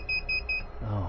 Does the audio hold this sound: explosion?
no